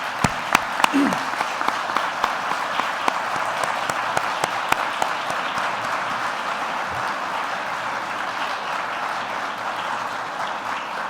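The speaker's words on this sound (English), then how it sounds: "we'll have a round of applause acknowledging them" A seated audience gives a sustained round of applause for Mary and Dana Dalton, a broad, steady wash of many hands with a few sharp, close claps standing out, and faint voices beneath.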